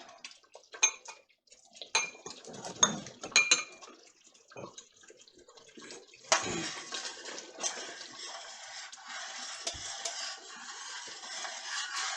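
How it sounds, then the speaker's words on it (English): Water runs and splashes as a bowl is rinsed out in a home kitchen during jam making, with scattered clinks and taps of dishware first and then a steady, close stream of running water. "I'm going to clean this bowl out so that I can use it as my tester again."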